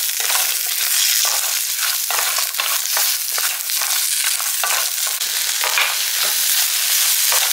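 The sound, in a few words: sautéing shallots and green chillies in a pan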